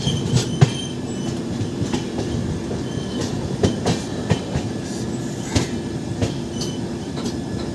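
A train rolls along the rails as it nears a station, with steady rumbling and rhythmic wheel clicks, occasional squeals and clanks rising over a continuous mid-level roar; no one speaks.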